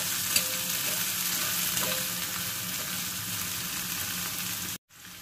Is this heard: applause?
no